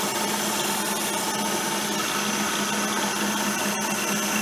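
A milling machine cutter chews a slot into metal at about 1500 RPM. It makes a continuous, even grinding whir with a faint steady tone and no pauses.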